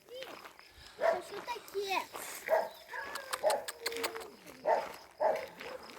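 Small abandoned puppies yap and whimper in short high bursts beside a deserted highway, repeated several times, while people talk softly nearby.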